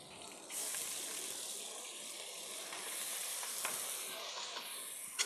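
Onion sizzles in a pan alongside meat, a steady bright crackle that starts abruptly and holds at a moderate, close level, with a few faint clinks.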